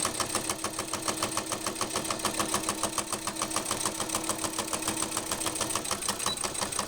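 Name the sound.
sewing machine stitching vinyl coin purse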